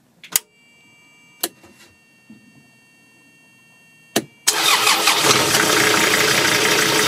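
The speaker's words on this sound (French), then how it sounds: "Voilà, moteur à froid, démarrage." A cold five-cylinder diesel on a Jeanneau Sun Kiss 45 sailboat cranks after a few clicks, then catches and settles into a loud, steady running roar that fills the rest of the clip.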